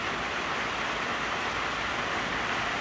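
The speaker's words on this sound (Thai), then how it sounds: "เป็นเสียงฝนนะที่ตกอยู่ตอนนี้นะฮะ" Heavy rain pours down in the village of Kok Kok, Thailand, a dense, unbroken hiss and roar that stays loud and even throughout with no voices.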